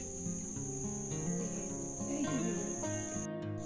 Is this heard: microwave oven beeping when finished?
no